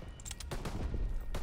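Gunfire in the Call of Duty WW2 campaign, Normandy mission: a burst of game weapon shots around the middle and another near the end, layered over a dense, rumbling battle backdrop.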